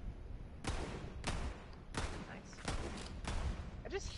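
Faint, distant gunfire in the video game Borderlands 3, a series of about six separate shots or short bursts spaced roughly half a second apart over a low background bed.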